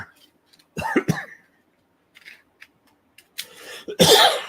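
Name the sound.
coughing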